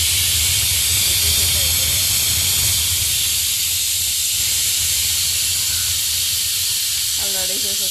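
A pressure cooker cooking dal vents steam through its whistle, giving a loud, continuous hiss that fills the whole stretch. A voice briefly speaks near the end.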